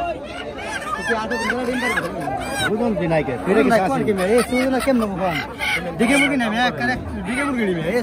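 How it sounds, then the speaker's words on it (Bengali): Chickens and roosters at a riverside village market in Dohar, Dhaka cluck and squawk under steady nearby talk and crowd chatter, the birds partly masked by voices. "এই যে দেখেন আজকে বিপুল পরিমাণে মোরগ এখানে আসছে।"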